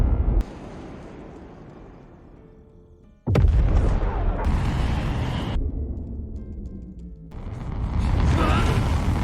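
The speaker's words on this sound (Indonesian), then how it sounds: "Menyadari akan ada serangan Nomad, Joshua berlari sejauh mungkin untuk menghindari radius ledakan" Missile explosion in a film about a war between humanity and AI: a sudden sharp blast followed by a heavy, sustained rumbling roar with further booming surges.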